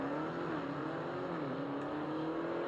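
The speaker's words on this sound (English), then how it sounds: "Naturally aspirated 392 car over there on the left." A naturally aspirated 392 drag racing car accelerates at a distance, its engine note a steady rising whine held across the short stretch, faint and unaccompanied by talk.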